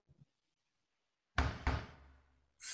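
Two firm knocks on a door by a delivery courier land close together, loud and resonant against near silence, followed by a short burst of another sound.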